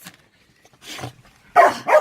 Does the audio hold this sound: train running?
no